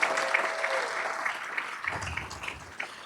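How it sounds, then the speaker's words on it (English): A round of applause from the audience at a live State of the City event in Chino Hills, honoring city staff; moderately loud, continuous clapping from a crowd, somewhat distant, with a brief voice near the start. "let's give the city of Chino Hills staff one more big round of applause"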